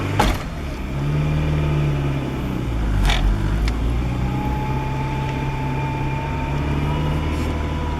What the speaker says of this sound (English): I'm going to let the clutch out. Let's see if we can hear this buck.